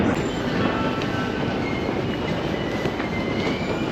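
A Tokyo train runs toward Shinagawa station with a steady, loud rumble of wheels on rails, a continuous roar with faint clatter throughout.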